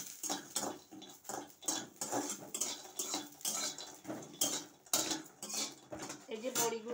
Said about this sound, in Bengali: বড়িগুলো একটু লাল লাল করে ভেজে নেব